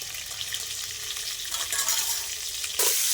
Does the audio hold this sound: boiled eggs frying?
yes